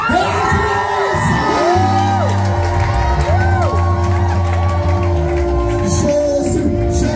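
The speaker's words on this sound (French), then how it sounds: "Est-ce qu'on peut se lever pour pousser des cris de joie?" Church congregation at a September 2025 worship service shouting, whooping and cheering for joy, a dense, loud crowd roar that holds steady throughout, with voices mixed in and rising yells over a low sustained organ or keyboard tone.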